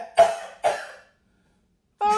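A person coughs twice in quick succession, close and clear, followed by a short silence and then a brief voice at the end.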